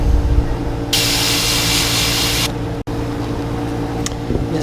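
A low-pressure airbrush sprays paint onto fishing baits. A steady airy hiss runs for a couple of seconds over the background hum, then cuts off, with short faint bursts after it.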